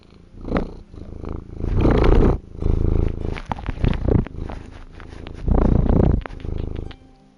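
A cat purrs up close in loud, rhythmic bursts, each breath cycle rising and falling with brief pauses between, heard alone without talk.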